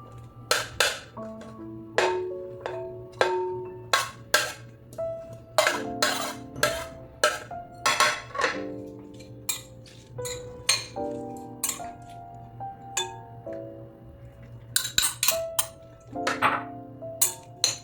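Chopped vegetables are moved into a bowl with a spoon while a bread pocket filling is prepared, giving a run of sharp clinks and taps of utensil against bowl, irregular and close, over a low steady hum.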